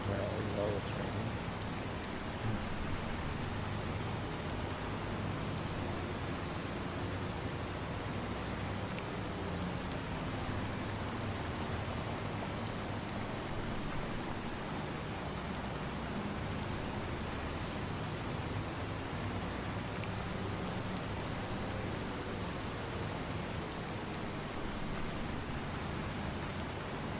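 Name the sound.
rain falling in the video game Farming Simulator 25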